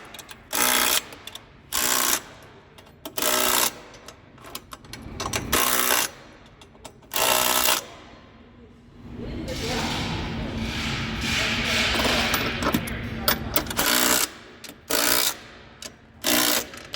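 A ratchet gives the trailer hitch bolts on a 2023 Hyundai IONIQ 5 their final torque, in repeated bursts of close, loud clicking separated by short pauses, with a stretch of rustling handling noise in the middle.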